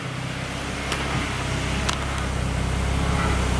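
A Honda Civic being built up for a turbo conversion idles roughly with an idle control valve problem, a low steady engine rumble close by with slight unevenness and no talk.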